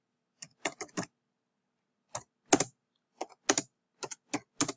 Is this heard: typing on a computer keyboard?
yes